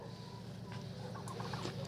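A bantam hen clucks a few times at a moderate distance over steady background noise, with short irregular calls.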